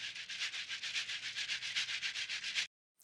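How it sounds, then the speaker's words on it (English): A looped shaker pattern for a lofi indie pop beat gives a bright, even rhythmic swish of about twenty evenly spaced pulses, then cuts off abruptly into silence. "so I got this shaker loop"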